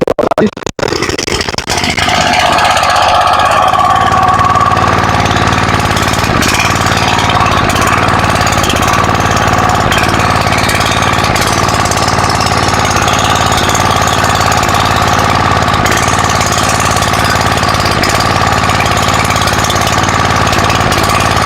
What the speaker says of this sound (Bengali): সেল বন্ধ করে দিয়েছি অটোমেটিক মেশিন বন্ধ হয়ে যাবে হন্ডা মেশিন চালাতে গেলে সেল লাইনে তেল বন্ধ করে দেওয়াটা ভালো